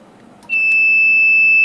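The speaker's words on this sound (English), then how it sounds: "the alarm's going off." A quiet hum gives way to an abrupt, steady high-pitched electronic alarm tone from an electric brew-in-a-bag brewing system nearing a boil, sounding continuously and loudly to the end.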